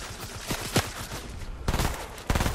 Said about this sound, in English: Somebody else shooting up behind us